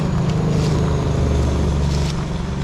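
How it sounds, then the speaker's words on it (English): A heavy tip truck engine rumbles steadily past at close range, a loud, continuous low drone with a hint of wind noise. "Another tip truck."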